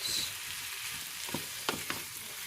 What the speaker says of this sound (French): Donc, je vais faire revenir quand même 2-3 petites minutes.